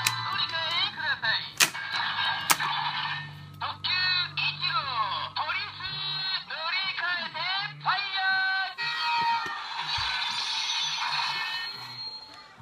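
Electronic toy sound effects and chimes from the DX Police and Fire Ressha toys of the ToQger line, with bright beeping melodies, announcer-like calls and a couple of sharp clicks, layered over steady background.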